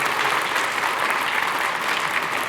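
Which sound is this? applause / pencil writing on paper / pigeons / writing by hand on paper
applause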